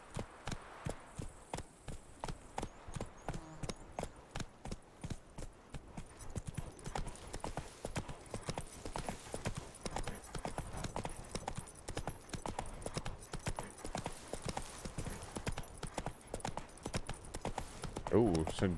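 Roach the horse trots along in The Witcher 3, hooves clip-clopping in a fast, even rhythm close up, with someone talking over the steady hoofbeats.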